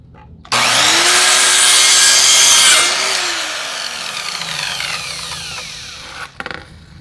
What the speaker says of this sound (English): the easiest way I found to cut it is using a chop saw